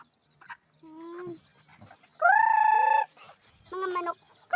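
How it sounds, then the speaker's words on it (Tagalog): Chickens cluck and call in short bursts, with one longer, louder drawn-out call in the middle, close by and without talking. "Mga manok."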